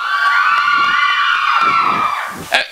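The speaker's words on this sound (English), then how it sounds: "Come on, you guys can cheer for him better than that" A live show audience whoops, shouts and cheers in a loud sustained burst, with high children's voices prominent in the crowd, tapering off near the end.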